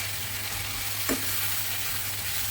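A potato and pointed gourd curry with fish is stir-fried in a pan, giving a soft, steady sizzle with one brief scrape partway through and no voices.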